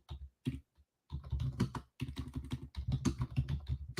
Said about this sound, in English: I'm going to type in our chat.